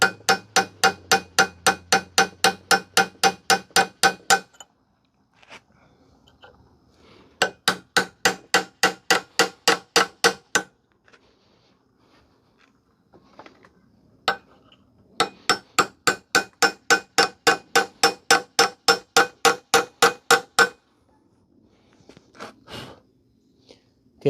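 A hammer strikes a rusted Dana 30 ball joint in three fast bursts of sharp metallic blows, each burst about a dozen rapid hits separated by short pauses, close and loud.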